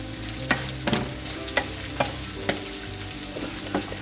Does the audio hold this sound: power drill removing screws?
no